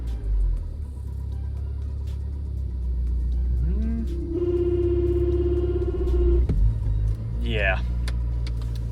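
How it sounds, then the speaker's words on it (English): A Honda Civic Si engine idles with a deep steady rumble as the clutch is slowly let out, the pitch rising into a held whine before a brief clunk and a quick electric sweep, with people talking nearby. "slowly let it out of the clutch and see if this actually stalls"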